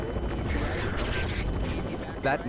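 A helicopter flies nearby with a steady, loud rotor drone and whooshing throughout, while a person speaks over it.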